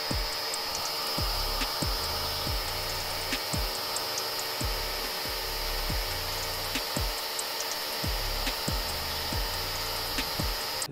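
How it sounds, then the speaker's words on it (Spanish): A Makita DV187 18-volt cordless blower-vacuum runs at speed 3 with a steady, loud airy whine and a high motor tone, pulsing slightly in a regular rhythm close to the microphone, with no voices. "DV187 de nuestra familia de 18 volts, la cual es una sopladora aspiradora"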